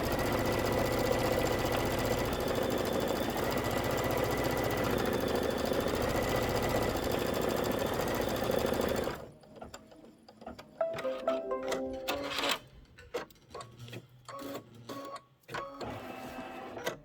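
An embroidery sewing machine stitches a Kimberbell pillow block with a loud, fast, steady mechanical whir and rapid needle clatter. After about nine seconds it slows into irregular knocks, clicks and short motor bursts, heard close up and without talk.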